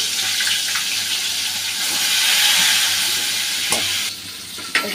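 A fish head frying in hot oil in a pan gives a continuous bright sizzle with occasional scraping stirs. The hiss drops suddenly near the end, followed by a short clatter.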